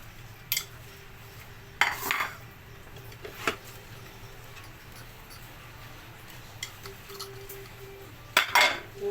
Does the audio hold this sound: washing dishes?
yes